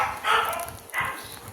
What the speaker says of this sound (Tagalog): ang ingay ng aso na yung husky